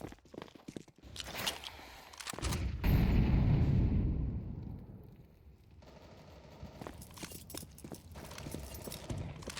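Gunfire in a Counter-Strike match on the Mirage map near the A site, several sharp shots followed by a long booming rumble, then scattered quieter clatter and footsteps.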